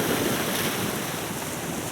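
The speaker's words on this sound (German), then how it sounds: "Die Wellen haben sich wieder ein bisschen beruhigt." Baltic Sea waves and strong southerly wind while sailing, a dense continuous wash of water and wind rush buffeting the microphone, loud and steady throughout with no voices.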